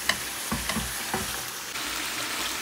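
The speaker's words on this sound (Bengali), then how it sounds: "আর এই পাশটাতে এই যে চিচিঙ্গা ভাজি করে নিচ্ছি" Snake gourd frying in a pan, with a steady sizzle and a few clattering stirs near the start, followed by an even, continuous hiss.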